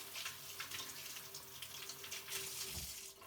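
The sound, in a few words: water tap running while rinsing coffee equipment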